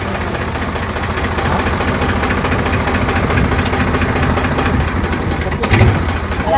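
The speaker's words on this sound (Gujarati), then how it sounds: "ટ્રેક્ટર બંધ કરો." A tractor engine runs at a steady idle, a continuous low rumble close by, with voices faintly in the background.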